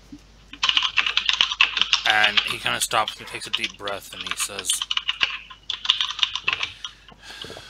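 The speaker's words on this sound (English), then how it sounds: "he taps a few more keys on his computer after he spins it back around" Computer keys are tapped in a steady, close run of light clicks while someone speaks over them, narrating.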